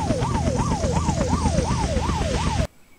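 Helicopter in the survival video game Unturned: a loud, continuous engine drone with a fast rhythmic rotor wobble, pitch sweeping up and down in repeated cycles for over two seconds before cutting off abruptly.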